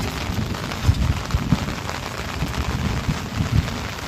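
Rain falls at a riverside in a dense, steady wash of close patter, with soft low thumps of drops and a few heavier splashes scattered throughout; no one speaks.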